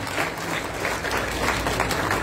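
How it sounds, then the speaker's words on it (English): A crowd at a UPND party manifesto launch applauds Honorable Leslie Mbula, dense steady clapping filling the whole moment, loud and close with a faint murmur beneath. "A round of applause for Honorable Leslie Mbula."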